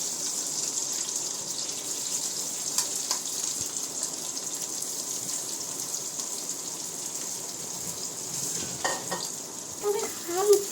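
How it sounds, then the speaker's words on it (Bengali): Onions soften in hot oil with whole garam masala in a pan, making a steady, close sizzle, with a few stirring clinks near the end and no talk. "তবে হালকা ভাজবো যাতে পেঁয়াজটা নরম হয়ে আসে"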